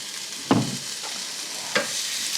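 Thinly sliced onions with a little salt sizzle gently in a pan, with a couple of soft scraping stirs of a utensil against the pan over the steady frying hiss.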